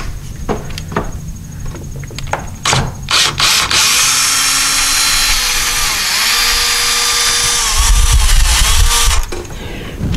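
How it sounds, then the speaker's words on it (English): An electric screwdriver backs screws out of a door hinge, a loud close whine running for several seconds after a few short clicks and bursts, with a heavy rumble as the screw comes free near the end. "if you have an electric screwdriver, of course you can use that"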